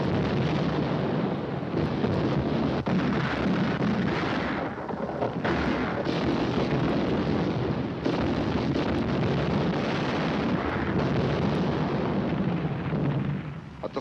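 Heavy naval gunfire and artillery explosions near Shanghai, a dense rumbling barrage of deep booms and blasts rolling on almost without pause, loud and close with wind buffeting underneath.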